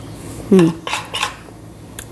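A spoon mixing pakodi batter in a bowl, heard as a few close, bright clinks of metal against the bowl in quick succession over a quiet background.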